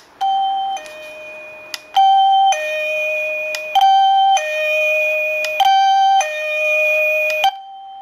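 A Saicoo wireless doorbell chime plays its two-tone ding-dong several times in a row at 25, 50, 75 and 100% volume, each ring following closely on the last, clear and nearby.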